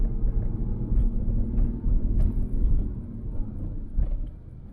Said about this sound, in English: We are climbing the steepest street in the world, where you can drive both ways.